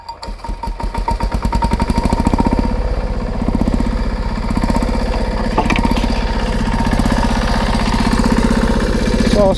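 Petter AC1 single-cylinder diesel engine on a Simplicity M1 garden tractor, running steady with a loud, close, rapid thumping beat after starting up, continuing alone without talk throughout.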